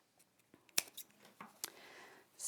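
Scissors snipping along a drawn line through craft material, a few sharp close clicks and soft cutting rasps spaced irregularly, faint overall and without talk.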